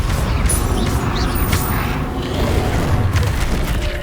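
Spell effects from Expelliarmus being cast in Hogwarts Legacy on PC, a loud, dense magical blast with booming crashes and sparkling bursts filling the whole span, no voices.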